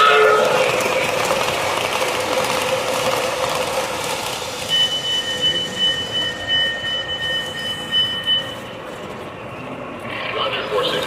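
Amtrak train passing with a broad rolling rumble, wheel squeal rising into sustained high metallic tones midway, and a radio voice speaking over the noise.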